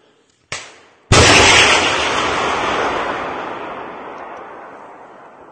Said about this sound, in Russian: Внимание, выстрел!